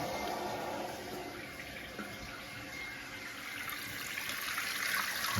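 Toilet tank filling through a newly installed fill valve, a steady hiss and rush of running water, continuous and moderately quiet, with no talking.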